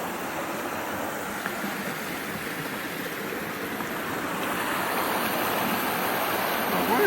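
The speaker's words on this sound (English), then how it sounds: "Waterfall." Steady broadband rush of a small waterfall beside a mountain trail near Bluff Mountain, continuous and close, swelling slightly louder toward the end with no voices.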